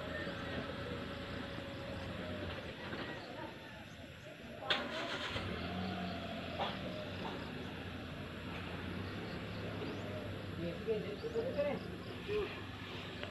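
A black car starting up and driving away, a low engine rumble with a sharp knock partway through, heard at moderate distance under scattered people talking and background noise.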